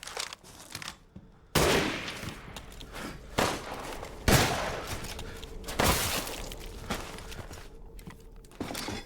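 Sniper or shotgun blasts in Resident Evil 8, several loud, sharp booms spaced a second or two apart, each followed by a brief crashing tail, close and with no speech.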